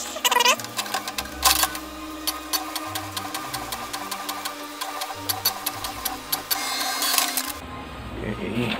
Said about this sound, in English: Try natin mag-photocopy.